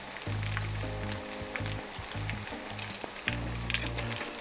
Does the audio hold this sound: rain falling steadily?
no